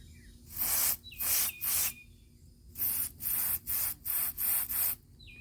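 Carb cleaner sprayed through the jets of a Harley-Davidson CV40 carburetor, about nine short, sharp hissing bursts in quick succession, close by, with thin squeaks between some blasts.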